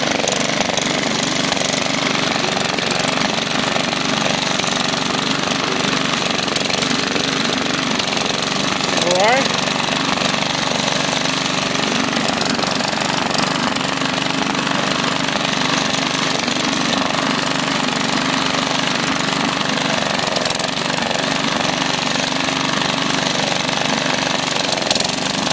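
A lawn mower running steadily and loudly for the whole stretch while cutting grass across a large property, with a dense, continuous engine drone that never lets up.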